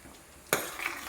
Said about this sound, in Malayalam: പതുക്കെ തിളച്ച് വരുമ്പോൾ നന്നായിട്ട് ഇളക്കി കൊടുക്കണം.